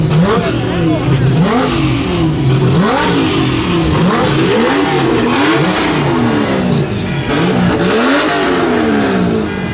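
A twin-turbo 2JZ engine in a Toyota Supra MK4 revs loudly and continuously, its pitch sweeping up and down in repeated surges, with voices talking over it throughout.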